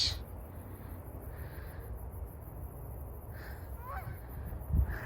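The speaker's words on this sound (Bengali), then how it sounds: "এই যে হাঁসের ডাকও শোনা যাচ্ছে" Geese honk several times at a moderate distance from water, in scattered calls over a steady outdoor hum, in a backyard in Canada.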